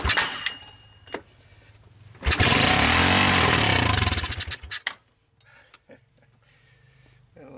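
A trashed, abandoned Honda TRX200SX ATV engine being cranked: a few short pulls, then a loud sustained burst of cranking lasting about two seconds that cuts off, followed by quieter fumbling sounds, close up.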